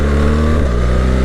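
A BMW R1300 GSA motorcycle fitted with the official BMW exhaust runs its engine in a loud, steady, close drone whose pitch shifts slightly partway through.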